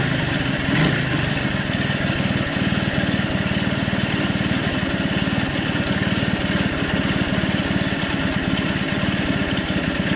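A 1981 Honda ATC 200 three-wheeler engine idles loudly and close, a steady continuous chugging drone with no pauses or voices.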